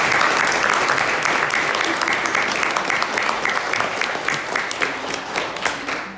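Audience at a church meeting in Sweden applauds steadily, a dense, continuous patter of many hands that holds at a loud, even level for several seconds and tapers slightly toward the end.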